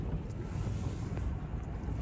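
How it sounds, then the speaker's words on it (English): Strong gusts batter a sailboat out on the Stockholm archipelago, a steady low roaring rumble with wind buffeting the microphone and water rushing past the hull. The noise is continuous and close, and nobody speaks. "It's gusting right now and we're maintaining course"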